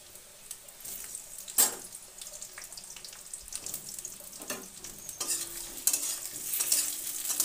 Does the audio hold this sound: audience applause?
no